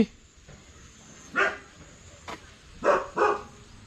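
A dog barks a few times at a moderate distance, short separate woofs with pauses between them over quiet background noise.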